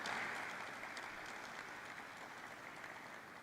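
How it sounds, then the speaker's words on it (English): Audience applause at a ceremony celebrating 30 years of ONGC's stock listing, a steady wash of clapping heard faintly from a distance that slowly tapers off. "Can we have a huge round of applause for the same?"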